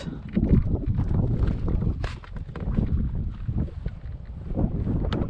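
Strong wind buffeting a microphone at an outdoor radio-controlled model plane flying session, a loud, continuous gusty rumble with rough, uneven surges for the full stretch.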